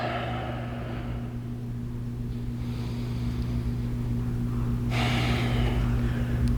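Deep, slow breaths during a reclined butterfly yoga pose: a long exhale at the start and another drawn breath near the end, audible over a steady low hum.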